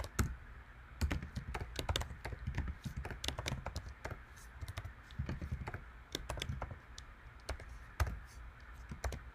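Keys clatter in quick, irregular bursts on a computer keyboard while Go code is typed in, close and clear with brief pauses between runs of strokes.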